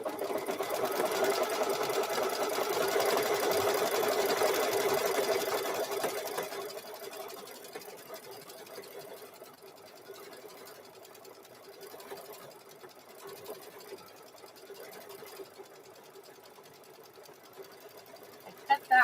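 A sewing machine runs a satin stitch on a hoodie, starting with a loud steady whir for several seconds, then continuing as a softer, faster rattling hum with brief pauses, close by.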